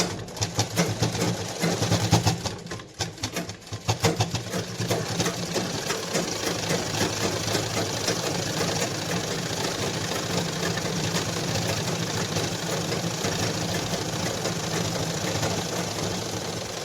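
A sewing machine stitches a cloth handbag made from leftover dress fabric, running in a fast, steady whir with a brief pause and uneven start early on, then continuous close motor hum.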